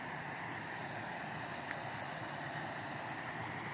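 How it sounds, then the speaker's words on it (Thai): Steady broadband rush of water spilling over a small weir, continuous and even throughout, like a small cascade nearby with no voices. "ได้ยินเสียงเหมือนน้ำตกเนาะ"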